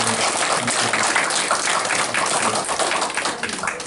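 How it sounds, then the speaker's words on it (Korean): A church congregation at a Korean worship service breaks into dense, sustained applause, a close and even wash of many hands clapping together from start to finish. "건강하시라고 격려의 박수 한번 드리겠습니다."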